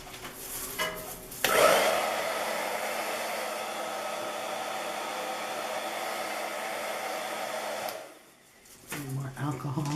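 Air blown across wet alcohol ink on canvas to push a purple flower shape, a steady close breathy hiss that runs for about six seconds before stopping, with brief quieter rustles at either end.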